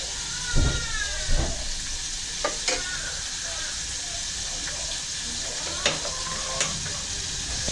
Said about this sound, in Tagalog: Prito lang tayo, prito.